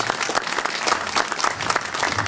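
A theatre audience at a drama company's fifteenth anniversary evening claps together, dense and steady applause throughout, close and fairly loud, with no talk heard over it.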